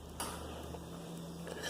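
A spoon stirs and clinks against a pot of steeping green tea bags on medium heat, with a brief louder scrape near the start and then a soft continuous swishing and tapping with no voices.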